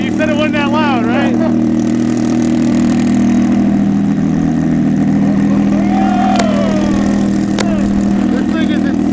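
A 1300HP Nissan Altima drift car engine idles loud and close with a deep, steady rumble throughout, while voices speak briefly over it.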